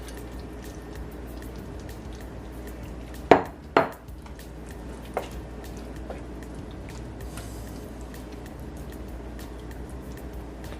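Shrimp dropped into a pan of coconut curry, giving two close metallic clanks and a clatter against the pan, then a lighter tap, over a low steady simmer with no talking.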